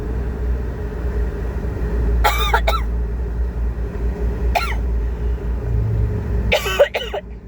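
A person coughs in short bursts inside a small Suzuki vehicle on a road trip in Rizal, a steady low engine and road rumble running underneath, with one cough at a time spread across the stretch.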